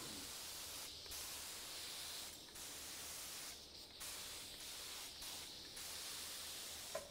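A spray gun lays a light mist coat of paint on aircraft interplane struts in a warm shop. Soft, close hissing runs in several bursts, broken by short pauses.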